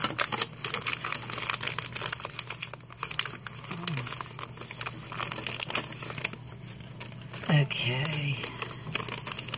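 Plastic sleeves of a pocket letter crinkle and crackle in close, irregular bursts as it is taken apart, with brief talk over the handling.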